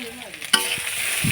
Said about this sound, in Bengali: শুকনো মাছগুলো ভালো করে ভাজছি আমি